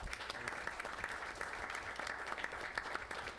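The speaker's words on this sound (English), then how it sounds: "if we can get a round of applause for her" A city council meeting audience gives a round of applause for an absent Employee of the Quarter, a steady wash of many hands clapping at moderate volume, dense and even throughout with no pauses.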